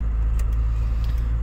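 First-generation Cummins diesel pickup truck driving on a test drive after a shift linkage adjustment, a deep steady engine rumble heard from inside the cab with faint rattles.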